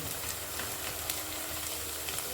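Onions fry in a pan for palak chicken curry with a constant, even sizzle and faint scattered stirring ticks, heard alone.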